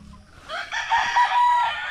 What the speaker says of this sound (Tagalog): yung mga native natin na manok mga kagapay